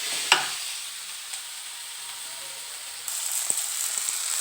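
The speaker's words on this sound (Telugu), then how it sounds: "బాగా ఫ్రై అవనిద్దామండి చిక్కుడుగాయను." Broad beans (chikkudu) frying with onion in a pan, a soft steady sizzle with a clink near the start and stirring sounds later as the frying grows louder, no talking.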